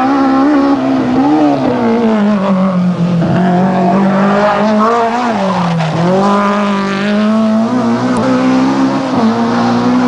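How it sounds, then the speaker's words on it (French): BMW M3 rally car at full attack on the 1989 Tour de Corse, a loud continuous high-revving engine howl with pitch swells and dips through gear changes and corners, with faint tyre noise. "L'homme fort du rallye, François Chatriot, magnifiquement épaulé par sa BMW M3"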